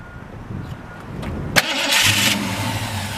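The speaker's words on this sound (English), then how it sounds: "We'll go ahead and fire this one up for you." A 1963 Ford Fairlane 500, running a generator and a new starter, cranks briefly and then catches with a loud burst. The engine settles into a steady, close rumble.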